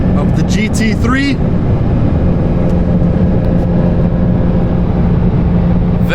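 A 2022 Porsche 911 992 GT3 engine roars loud and steady while driving, a continuous dense drone filling the cabin, with a voice and a brief whistling squeal near the start.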